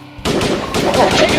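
Gunfire in a firefight: loud, dense bursts of rapid shots start abruptly and continue without pause, filling the short stretch.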